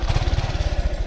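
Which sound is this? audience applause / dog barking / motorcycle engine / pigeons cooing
motorcycle engine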